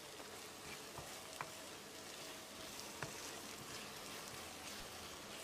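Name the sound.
fish curry simmering on medium flame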